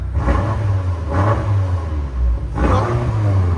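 A BMW M5 F90 with a 4.4-litre twin-turbo V8 and its exhaust valves closed revs three times, a loud, close, deep droning rumble rising and falling with no talk.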